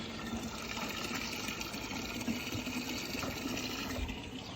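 Water running steadily from a tap into a can outdoors in hot weather, a continuous rushing, filling sound held close and even throughout, with no talk.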